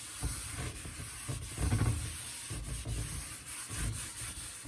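A paper towel rubs oil around a cast iron pan, making soft, scratchy swishing strokes that rise and fall in short repeated passes, close and fairly quiet.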